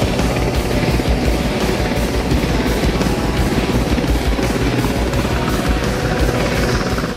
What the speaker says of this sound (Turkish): Kato'ya gitmek için helikoptere biniyoruz.